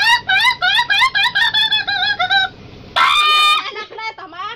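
A chicken squawks angrily in a rapid string of loud, nasal, rising clucks, then pauses and breaks into one sharp, harsh shriek that trails off into a few shorter calls.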